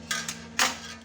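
A spoon scraping a pot during cleaning, with two short, rasping metallic scrapes, the second louder, over a steady low hum.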